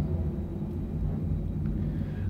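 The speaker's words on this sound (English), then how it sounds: "Looks like the astronauts are practicing out there. You can hear the planes." Low, continuous rumble of T-38 jet planes flying overhead near NASA Johnson Space Center, heard from a distance as a steady roar.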